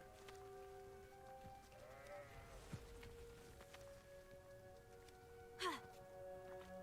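Faint sheep bleats in the video game Hogwarts Legacy sound a couple of times over quiet background ambience, one wavering call early and a sharper one near the end.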